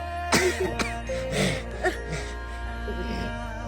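A few short coughs and throat-clearing sounds close up, with a sharp burst near the start and smaller ones after, over a steady low hum.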